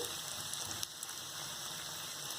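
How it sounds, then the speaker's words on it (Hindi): Bread slices for shahi tukda frying in hot ghee, a dense, continuous hiss and crackle of sizzling fat that holds steady and loud throughout with no voices. "अब हम तैयार किए हुए ब्रेड के स्लाइस को ऑयल में डालेंगे। और अब हम इसे दोनों ओर से गोल्डन ब्राउन होने तक फ्राई करेंगे।"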